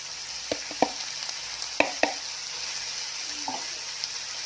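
Vegetables stir-frying in a pan with French beans, snow peas and broccoli chunks for Chinese vegetable rice: a soft, continuous sizzle with a few sharp clicks and scrapes of the stirring utensil, fairly quiet.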